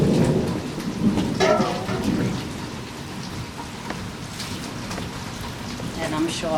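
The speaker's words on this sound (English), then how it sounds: "It's starting to rain." Steady rain patters on surfaces while low thunder rumbles in the background, with a few brief voice-like sounds in between.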